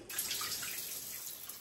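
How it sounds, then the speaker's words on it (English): Running water from a camp shower in Botswana's Central Kalahari bush, a steady hiss of spray pouring continuously and close by, with no pauses or voices. "now I can shower, get nice and clean"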